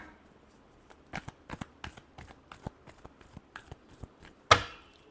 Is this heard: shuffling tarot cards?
yes